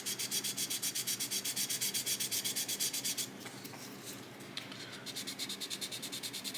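Rhythmic back-and-forth strokes of sandpaper on a plastic gun turret part from a 1/350 scale USS Missouri battleship model, steady and close, pausing briefly midway before resuming.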